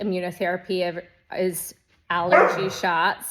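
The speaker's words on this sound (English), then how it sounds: "Sorry about the dogs in the background." Dogs bark in the background in short bursts while a person talks continuously over them.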